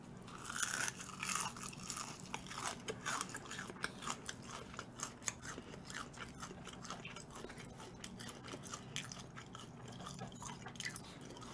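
Crispy fried food from a handmade burger meal is bitten and chewed up close at a mukbang, with repeated sharp crunches and crackles in an irregular rhythm and no talking.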